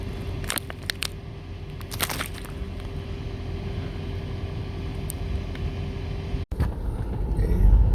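A car drives up snowy Big Mine Run Road near the Centralia mine fire in December, a steady close engine and tire rumble with a low hum, some crackling bumps early on, and the rumble swelling toward the end.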